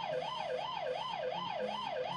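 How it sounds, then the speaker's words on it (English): Wailing ambulance siren from the Busy Town PC game, a steady looping rise-and-fall tone repeating about twice per second, loud and alone with no talking. "Hey, an ambulance!"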